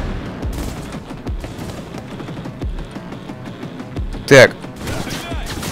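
Gunfire and a grenade blast in the Cyberpunk 2077 video game: scattered shots and thuds throughout, then one loud sharp explosion near the end, with someone talking over the combat.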